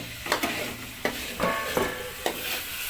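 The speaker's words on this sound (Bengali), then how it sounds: "আর এখানে আলুটাকে কষা হচ্ছে ঠিক ভালোভাবে" Potatoes sautéing in a pan for an egg and potato curry, a steady close sizzle broken by repeated scraping stirs of the spatula at irregular intervals, with no talk.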